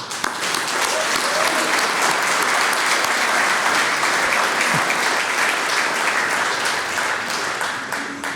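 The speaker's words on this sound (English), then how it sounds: "How about a round of applause for Liza?" A crowd at a State of the Workforce event applauds a speaker with steady, dense clapping that holds at an even level for about eight seconds, fairly close and full.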